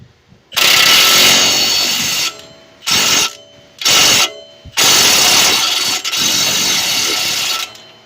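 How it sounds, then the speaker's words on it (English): A power wrench or impact tool tightening a bolt on a 2017 Dodge Charger ball joint, running loud and steady in several long bursts separated by short pauses, close up. "And you tighten that bolt."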